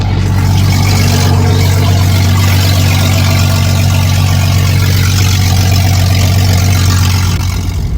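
A Jeep XJ engine runs in drive with a misfire, a loud, close, steady low rumble with an uneven pulsing throb underneath.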